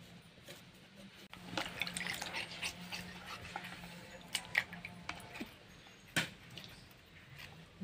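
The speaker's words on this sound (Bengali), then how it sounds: "যতটা পারবেন আলুটাকে ভালো করে ধুয়ে নেবেন" Peeled new potatoes being washed in water make soft, close splashes and scattered drips, quiet and irregular, with no voices.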